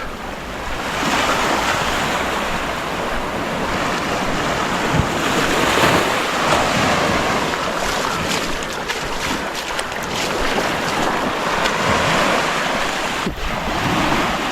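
Steady surf washing onto Agonda beach in Goa, a continuous roar of breaking waves with gusts of wind buffeting the microphone throughout.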